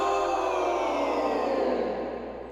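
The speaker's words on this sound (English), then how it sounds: "That's a slowdown effect that you can get with the vinyl plugin." A dense musical passage that slows and sinks in pitch like a record winding down, from a vinyl plugin slowdown effect, fading slightly toward the end.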